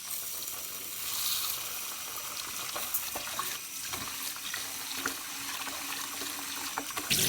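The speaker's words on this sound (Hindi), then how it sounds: "यहाँ पर दाल को हमने अच्छे तरीके से वॉश कर लेना है।" Moong dal being washed in a bowl of water, with sloshing, swirling and trickling close by, mixed with occasional light clinks and splashes and no talking.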